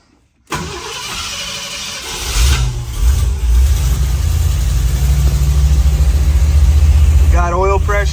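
A Ford F250 Ranger camper special pickup engine cranks with the choke pulled, catches within a couple of seconds and settles into a loud, rough, steady idle up close; a voice speaks briefly near the end.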